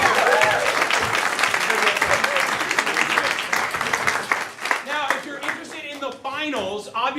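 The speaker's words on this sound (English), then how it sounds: "Give them a round of applause." A theater audience applauds improv comedy competitors with a dense, sustained wash of clapping that thins toward the end, with voices speaking over it.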